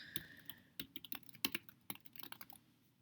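Fingers type on a computer keyboard in quick, irregular bursts of sharp key clicks, close and fairly quiet, with no voices.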